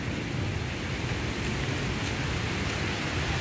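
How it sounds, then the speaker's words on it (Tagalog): Rain pours down steadily near a fish pond outdoors, a dense, unbroken hiss of drops that stays loud and even throughout. "So umulan na."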